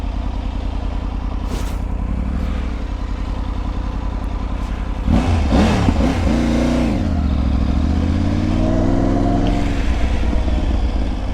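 An adventure motorcycle's engine drones steadily while riding, then revs up sharply midway and settles into a rising, falling throttle hum, heard up close from the rider's position with wind noise.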